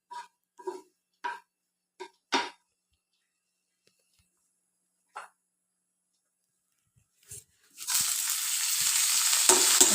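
Rice for ghee rice roasts in ghee in a pan. A few scattered taps and soft knocks come first, then a loud, steady sizzle bursts in for the last two seconds.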